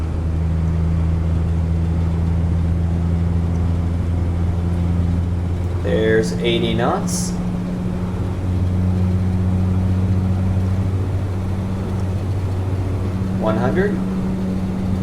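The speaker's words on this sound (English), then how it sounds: "There's everything coming to life there, and the engine stabilizes itself at 90." Propeller aircraft engine droning steadily during a night takeoff roll in X-Plane, a worn prop plane; loud constant hum with a shifting tone, while someone talks over it calling out airspeed.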